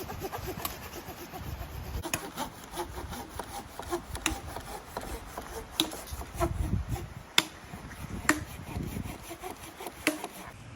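A handsaw cuts through wood in the woods with a faint, steady, rasping back-and-forth stroke. Occasional sharper knocks and clicks sound over the sawing.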